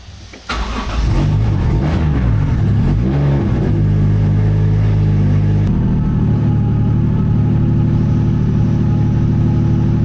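A car engine idling at low RPM on a dyno makes a steady, close, low rumble that holds smooth and even after it kicks in at the start, with no talking.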